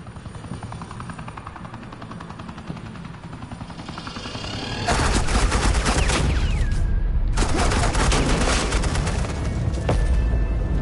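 Agent Quinn lays down suppressing fire in the video game Batman: The Enemy Within: after a droning, helicopter-like hum, a loud, sustained burst of gunfire erupts and continues to the end.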